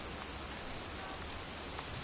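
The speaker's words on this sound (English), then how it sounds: "It's cold. It's raining. I'm standing outside getting soaked." Steady rain pours in a cemetery in the video game Heavy Rain, a dense, even hiss of drops that stays constant and fairly loud throughout, with no voices.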